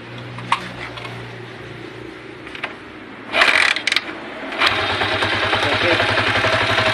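A refreshed Honda TMX155 motorcycle engine cranks with mechanical clatter and rattles, then catches and settles into a steady, close, loud idle with an even low thrumming beat.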